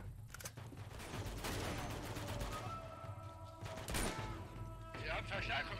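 Gunfire in the action video game Uncharted 2, a rapid barrage of close, loud shots with a few heavier cracks standing out, running continuously over a busy battle background.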